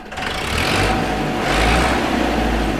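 A tractor engine running and revving, a steady low rumble with two swelling surges of throttle, close and loud without speech.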